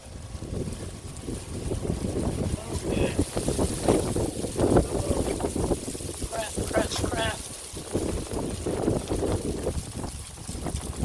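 Wind blows steadily outdoors beside a griddle, a continuous broadband rush with gusty swells and microphone buffeting, while a person talks over it.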